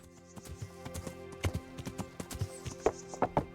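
Hooves of the horse Pebbles in Kingdom Come: Deliverance clatter in an uneven, close clip-clop as it climbs a mountain slope, with a few heavier stomps standing out over a faint steady game ambience.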